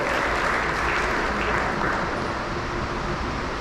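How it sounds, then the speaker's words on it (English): Steady applause from a banquet audience at a high school academic awards evening, a dense even wash of clapping that holds at a constant level throughout. "Round of applause for that."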